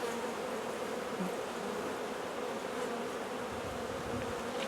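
A dense, steady drone of honeybees buzzing on a hive frame with eggs, brood and drones, close and continuous with no breaks or voices.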